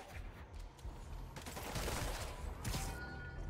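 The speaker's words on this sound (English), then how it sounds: "They got rockets!" Rockets firing in Marvel's Spider-Man Remastered: a rapid, dense volley of blasts and crackling explosions rumbling without a break, heavy and fairly loud.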